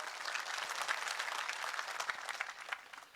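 Applause from an audience at a village mahapanchayat gathering, sustained dense clapping at moderate distance that thins and fades toward the end.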